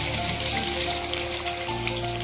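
Sliced onions drop into hot oil for a mutton biryani and fry with a dense, loud, rain-like crackle that holds steady throughout. No one speaks.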